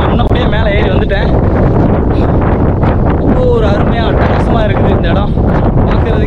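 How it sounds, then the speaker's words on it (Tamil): Strong wind buffets the microphone on an exposed hilltop along a trekking trail to Kurumalai Murugan Temple, a loud continuous roar with gusts throughout, under intermittent talk. "காற்று பார்த்தோன்னா அவ்வளோ ஒரு ஃபோர்ஸாக அடிக்குது"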